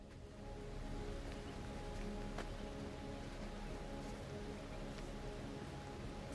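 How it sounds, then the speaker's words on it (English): Steady rain falls in the Aloft survival video game, a constant even hiss of drops with no talking. "you might want to wait until the rain's over just in case it's another thunderstorm."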